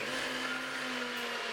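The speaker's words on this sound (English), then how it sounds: "We're blending in the hazelnuts to add a really nice nutty flavour" A blender grinds hazelnuts for plant-based financiers, giving a steady, loud whir with a constant motor tone that runs on without a break.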